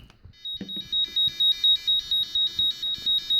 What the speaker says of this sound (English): Next, we will show the burglar alarm.